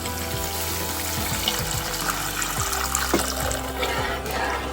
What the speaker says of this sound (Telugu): ఇప్పుడు దీనిలో మనం వాటర్ వేసుకుందాం